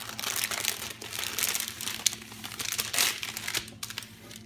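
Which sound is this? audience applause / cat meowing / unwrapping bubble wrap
unwrapping bubble wrap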